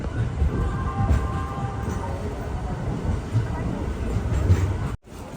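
A delayed express train pulls into a busy station platform, a low rumbling roll with faint screeching tones, while people talk nearby; the sound cuts off abruptly near the end.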